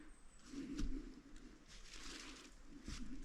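Doves coo softly in a forest on a quiet trail, a few low hooting calls repeating at a distance amid faint background rustle.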